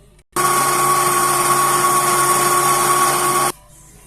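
A high, steady electric mixer motor whine starts abruptly, holds at a constant pitch for about three seconds while whipping cream, then cuts off.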